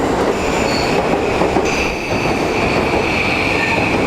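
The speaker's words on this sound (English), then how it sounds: "We're waiting on the train right now." A train rumbles loudly through a station, wheels squealing and clacking on the rails in a continuous, close roar.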